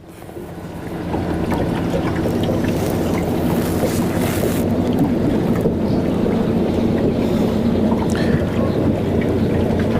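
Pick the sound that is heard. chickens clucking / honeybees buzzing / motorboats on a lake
motorboats on a lake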